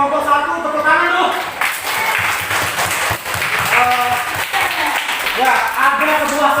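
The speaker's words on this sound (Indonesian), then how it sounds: "Tepuk tangan dulu" Students in a classroom clapping for a group's performance during a lesson, dense applause with voices talking over it throughout.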